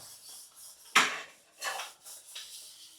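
Pots and dishes being scrubbed and washed by hand in a Maharashtra farm household, with a sharp clatter of metal vessels followed by a few softer scraping and rinsing bursts, fairly close and with no talking.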